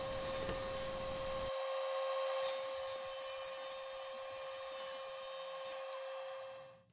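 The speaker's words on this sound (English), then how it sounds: "A quick jump over to the miter saw and I'll cut them to length" A miter saw slices wooden mantel pieces to length, a steady loud whine with a tonal hum running for several seconds before spinning down at the end.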